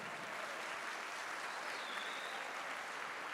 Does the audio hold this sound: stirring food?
no